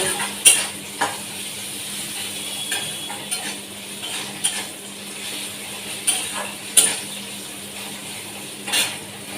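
Curry cooking in a pan, a faint low sizzle under repeated sharp scraping and clinking strokes of a utensil stirring against the pan, spaced irregularly and close by, with no talking.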